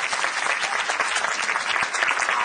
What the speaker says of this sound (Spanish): El aplauso para Mozart La Para.